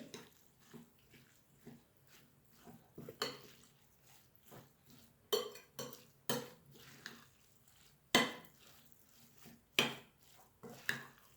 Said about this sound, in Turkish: Bunu çok güzel homojen bir şekilde iyice karıştıralım arkadaşlar